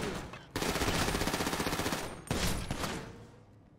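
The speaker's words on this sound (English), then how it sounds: "Who's shooting?" Sustained loud automatic gunfire in a multiplayer video game shootout, two long rapid-fire bursts rattling close by with a brief gap between them, no talking over the shots.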